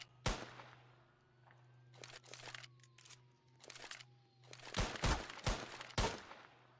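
Gunfire in a police roleplay video game: a sharp single shot, then scattered bursts of rapid cracking shots and a dense volley near the end over a low steady hum, with no talk.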